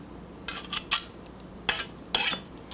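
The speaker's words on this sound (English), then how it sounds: "we're gonna put that along with another clove of garlic again through the press" A garlic clove squeezed through a metal garlic press, heard as a few short metallic clicks and squeezes in quick succession, close and clear with no talk.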